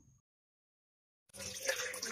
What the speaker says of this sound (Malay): Mula-mula masukkan air. Saya gunakan lebih kurang 1 liter air.